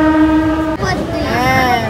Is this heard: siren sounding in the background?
no